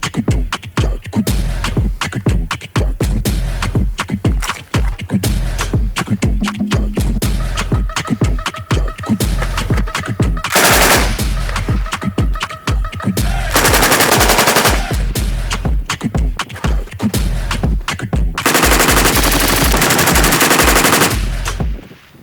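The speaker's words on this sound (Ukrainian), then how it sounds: "Пропоную розпочати зі стрільби" A Heckler & Koch MG4 machine gun fires in rapid bursts and long sustained strings, loud and close, with brief pauses between volleys.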